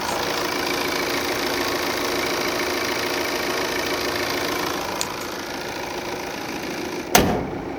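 A Volvo XC90 SUV engine idles steadily with a dense, even rumble, close by; a couple of sharp clicks break through near the end.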